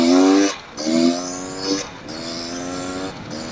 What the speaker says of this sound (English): gotta love a two-stroke